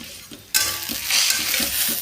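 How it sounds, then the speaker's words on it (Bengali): Vermicelli fries in a pan with a sudden burst of loud, steady sizzling that starts half a second in. Faint scrapes of stirring run underneath, with no voices. "তো ভালো করে মা একটু ভেজে নেবে।"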